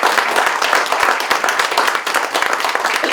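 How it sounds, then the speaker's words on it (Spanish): Audience applause for a professor at a ceremony awarding medals to teachers for academic seniority, dense and fairly loud clapping with distinct individual hand claps throughout. "Y un aplauso."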